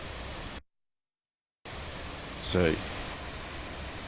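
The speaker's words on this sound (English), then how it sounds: "button here, which is supposed to activate pink noise generator for the case system speaker calibration" Pink noise from a precision limiter plugin's speaker calibration generator, a steady broadband hiss that cuts out abruptly for about a second and then resumes, with a brief spoken word over it.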